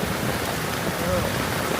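Steady rain pours down outdoors on a city street around a rickshaw, a dense, even hiss that fills the short stretch without a break, with a faint voice underneath.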